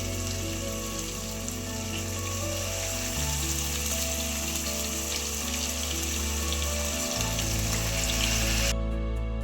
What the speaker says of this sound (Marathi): वालसुद्धा आपण पाच सात मिनटं व्यवस्थित परतून घेणार आहोत